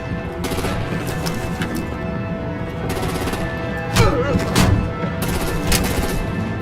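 Gunfire and artillery erupt in the Batman: The Enemy Within video game, rapid bursts of shots and heavy blasts over a continuous din, with a voice shouting amid the chaos.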